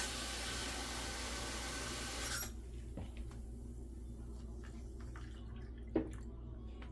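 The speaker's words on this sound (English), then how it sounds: "let me get the water" Tap water rushes steadily into cups set up for dyeing Easter eggs, a loud, even stream for about two seconds that cuts off abruptly, leaving a quiet room with a few soft knocks.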